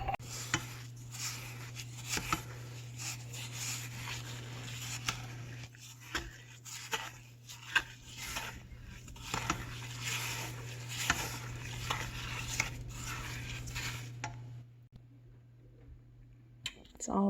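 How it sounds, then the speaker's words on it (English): Strawberry pepper jelly mixture is stirred in a pot on the stove, a spoon scraping and pattering steadily against the pot under a constant low hum, with a person talking over it. "now we're just going to stir this together until it comes to a rolling boil"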